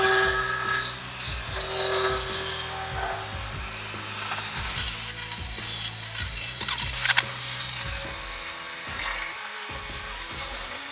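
Power saw cutting hardwood strips of different colors to size in a woodworking shop, an uneven mix of rasping cuts, motor hum and knocks of wood being handled, close and moderately loud.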